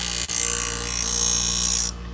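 One light pass of a knife blade across a sharpening stone gives a steady gritty hiss lasting over a second and a half. It ends abruptly, with a small click near the start.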